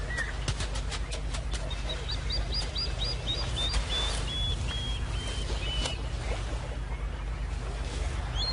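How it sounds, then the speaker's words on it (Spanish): Agitated plovers call in repeated, evenly spaced chirps at a monitor lizard near ground nests, set against a steady low background rumble of wind or water. "Y los alborotados chorlitos le declaran la guerra inmediatamente."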